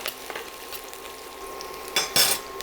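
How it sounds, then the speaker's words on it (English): Green chilies and curry leaves sautéing in a pan, a soft sizzle broken by a few scraping stirs and a sharp metallic clatter of a utensil near the end. "teaspoon of green chilies along with some curry leaves. Saute all that together"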